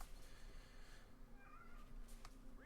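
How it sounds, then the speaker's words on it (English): A pet cat named Basil meows softly in the background, a few faint, drawn-out plaintive calls over steady low room noise, with no one talking. "Cat seems a bit sad in the background. That is Basil, that is."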